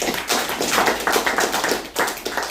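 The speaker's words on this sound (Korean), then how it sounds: "여러분 동의한다면 큰 박수 한번 부탁드립니다." Audience at a political meeting breaks into dense applause, a steady wash of many hands clapping close by for a couple of seconds with no one speaking.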